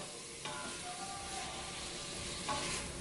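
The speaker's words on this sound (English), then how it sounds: "the saute function on the Instant Pot works great" Food sizzles steadily in an Instant Pot on its saute setting, a close, even hiss with a couple of louder stirring scrapes.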